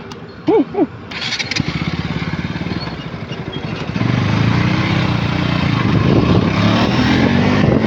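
KTM motorcycle on NH12 highway, a brief engine blip then a steady droning engine that jumps to a louder, sustained high-revving roar at top speed with wind noise.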